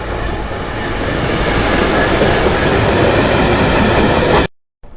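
A train rumbles steadily past at close range at Oldfield Park railway station platform, a loud broadband roar with rail noise that cuts off abruptly near the end.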